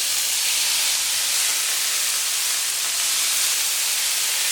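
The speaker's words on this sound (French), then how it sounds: "Vous versez un tout petit filet d'eau." Water poured into a hot pan of grilled prawns and vegetables throws up a loud, steady hiss of steam and sizzling that holds evenly throughout, close and with no voices.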